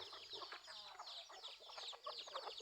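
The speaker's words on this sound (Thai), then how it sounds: "ไก่เขาก็ตาไวนะ เห็นปุ๊บส่งสัญญาณเลย" Chickens at a temple yard in Lampang, Thailand, give a continuous clucking alarm chorus warning of a hawk, with several birds calling rapidly and overlapping at close range, no talk.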